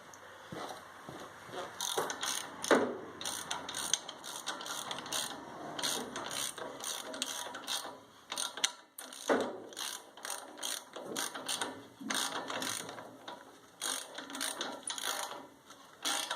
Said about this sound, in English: The next part is to bolt up the manifold again.